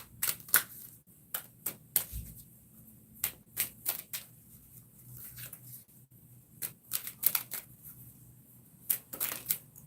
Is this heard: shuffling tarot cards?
yes